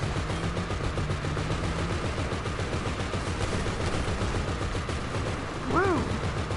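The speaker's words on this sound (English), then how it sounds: "I'm gonna get killed by the turret." Turret gunfire in GTA Online's Motor Wars mode rattles as continuous, dense automatic fire throughout, with people talking over the shooting.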